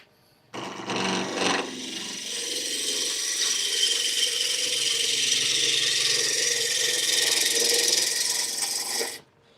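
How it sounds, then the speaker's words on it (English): A big chunk of walnut spinning on a wood lathe, a steady close harsh rasping hiss of the cutting tool against the wood with a motor hum underneath, starting abruptly, holding evenly for about nine seconds, then stopping sharply. "I'm turning a big chunk of walnut right now, and it's doing just fine."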